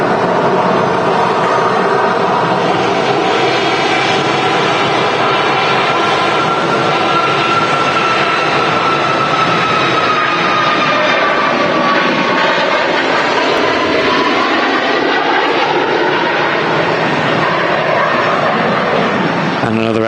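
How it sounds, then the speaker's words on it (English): A Ryanair Boeing 737 MAX 8200 jet rolls for takeoff at Manchester Airport, a steady loud roar of jet engines with a slowly shifting whine running the whole way through. "a Ryanair 737 MAX 8200 on a roll now. Taking off on the way to Warsaw in Poland."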